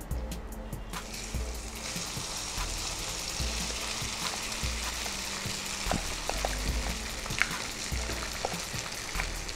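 Lemon rice with cumin sizzles as it fries in a pan, a steady close crackle broken by scraping and stirring knocks from a spoon, with no voices over it.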